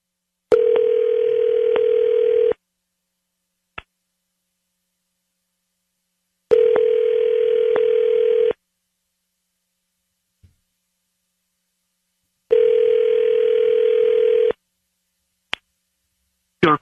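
A phone line plays three long ringback tones, each about two seconds, separated by roughly four seconds of silence with occasional small clicks, while a number is redialed.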